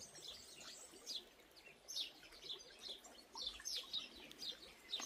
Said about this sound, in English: You hear the birds chirping.